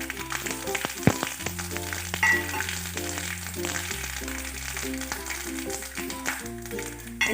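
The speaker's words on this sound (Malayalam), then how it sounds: "ഇനി നമുക്ക് വെളിച്ചെണ്ണ വെച്ച് കടുകും ഉലുവയും കൂടെ വറുത്തിടണം" Mustard seeds, fenugreek and dried red chillies frying in hot coconut oil, with continuous sizzling crackle and sharp popping bursts, close and alone without talk.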